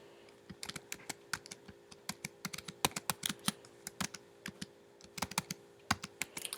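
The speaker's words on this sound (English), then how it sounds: "Then I type in my newsletter subtitle." Computer keyboard typing a newsletter subtitle, quick irregular clicking keystrokes in bursts with brief pauses, close and fairly quiet.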